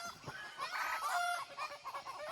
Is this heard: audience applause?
no